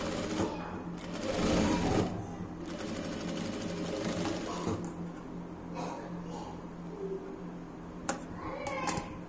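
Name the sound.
sewing machine stitching two lines on fabric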